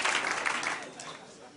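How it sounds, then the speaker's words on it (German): A theater audience at a German cabaret performance breaks into loud applause, dense clapping that peaks at the start and then gradually fades away. "Das war ein guter Applaus."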